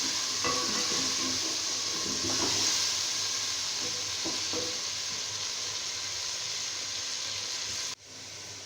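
Chicken frying in masala for biryani, a continuous soft hiss and sizzle with a few light clinks of stirring in the pan, close and steady, then a sudden drop as the sound cuts near the end.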